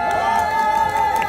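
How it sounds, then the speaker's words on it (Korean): Guests at a 60th-birthday party shout and cheer together in a short, loud burst of voices, a sustained collective whoop. "드신 분은 한번 함성 한번 질러 보실까요?"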